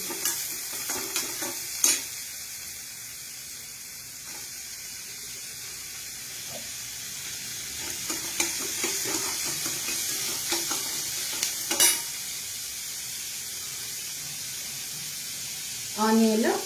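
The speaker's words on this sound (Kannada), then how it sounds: "ಸೊ ಇದು ಚೆನ್ನಾಗಿ ಫ್ರೈ ಆಗಿದ್ಮೇಲೆ, ಸೊ ಇವಾಗ ನಾನು ಫೈನಾಗಿ ಚಾಪ್ ಮಾಡಿರೋ ಅಂತ ಆನಿಯನ್" Finely chopped onion fries in oil in a pan during an Indian home cooking session, a steady low sizzle broken by occasional scraping stirs and clinks of a spoon, with a sharper burst of frying toward the end.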